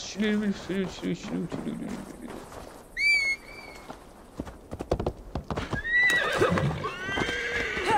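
A horse in the video game Assassin's Creed Valhalla gives several whinnies and snorts while its hooves clip-clop in a quick rhythm, close and clear, over faint ambient game sound and someone talking.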